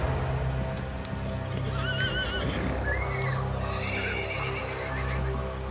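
Wild Brumby horses in the Australian mountains neigh and whinny several times, loud and near, over a steady clip-clop of hooves and a constant outdoor rumble.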